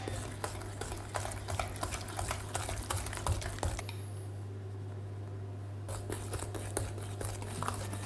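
Flour is worked into brownie batter with eggs in a bowl by hand. Soft, irregular stirring and scraping taps sound close by, pausing briefly midway before resuming over a faint steady hum.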